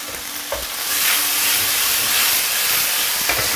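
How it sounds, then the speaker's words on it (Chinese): The flipped side of a marinated pork chop fries in an oiled pan, a loud continuous sizzle and hiss that swells after a soft start, with a couple of faint clinks and no voices. "再煎另一面啊，先不要动它"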